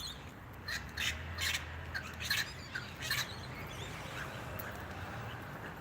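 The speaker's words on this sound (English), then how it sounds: "We could feed the birds." Crows caw outdoors, a run of loud, harsh calls repeated in an uneven rhythm over steady ambient noise, fading to quiet near the end.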